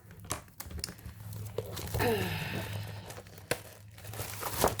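Sheets of designer series paper handled up close, with soft crinkling and rustling, a brief tearing-like swish and light taps, fairly quiet and without speech.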